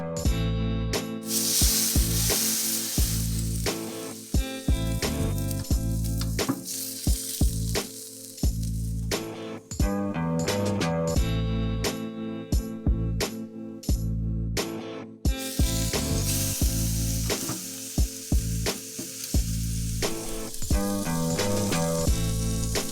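A ribeye steak sears in a hot pan with a steady, loud sizzle that runs the whole time under a layer of rhythmic background music.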